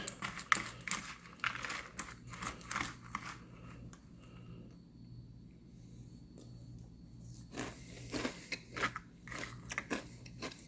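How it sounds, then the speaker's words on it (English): Close, crisp crunching of hard cereal being chewed in quick bursts, pausing briefly in the middle before the crunching picks up again. "A very hard, very crunchy cereal."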